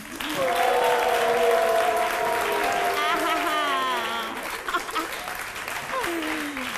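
A French TV studio audience gives sustained, hearty applause, loud and continuous, while music plays over it and the clapping thins slightly toward the end.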